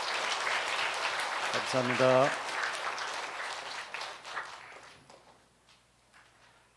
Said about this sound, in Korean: 다시 한번 뜨거운 감사의 박수